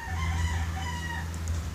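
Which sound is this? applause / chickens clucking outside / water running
chickens clucking outside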